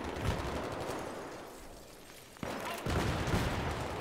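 Gunfire in the video game Battlefield 3: a dense, continuous barrage of shots and blasts, loud and close, dipping briefly before a sharp crack and a renewed heavy volley.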